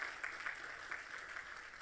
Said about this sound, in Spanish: Dale ese aplauso más fuerte al Señor.